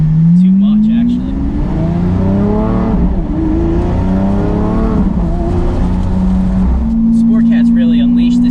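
A Lamborghini SVJ fitted with Fabspeed sport catalytic converters revs hard and loud, its engine note climbing and falling through gear changes under an excited voice talking over it.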